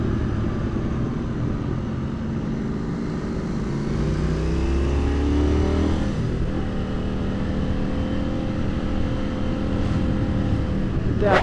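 A motorcycle engine on the Bernina Pass in the Swiss Alps drones loudly and steadily, then rises in pitch as it revs and accelerates, with wind rush throughout.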